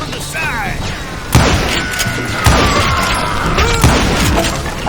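Gunfire in the Western shooter Call of Juarez Gunslinger: several loud revolver shots and booming impacts with shattering debris, spaced irregularly over a few seconds, with a voice speaking and music tones mixed in.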